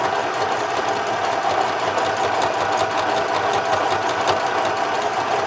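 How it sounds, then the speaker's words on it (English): A small Janome sewing machine stitches fabric at a modest steady pace, producing a continuous, even mechanical whirring and rapid needle clatter, close and loud with no voices. "if you're using a machine like this little Janome, it can't go fast"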